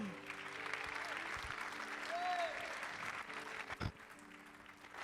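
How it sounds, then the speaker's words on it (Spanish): A church congregation claps during an evangelist's sermon, steady moderate applause filling the room for several seconds, with a faint voice and a brief thump near the end. "Si va a aplaudir, aplauda con fuerza"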